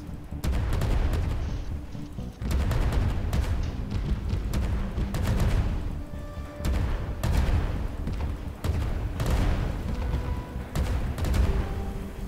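Ship cannons firing in a video game, a dense, continuous barrage of booming, crackling blasts that overlap with little pause, loud and close throughout.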